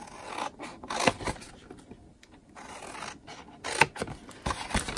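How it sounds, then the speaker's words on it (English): Paper for a Christmas box being snipped with scissors up to a score line, a few short crisp cuts and rustles close by, separated by quiet pauses. "And then cut up to the score line."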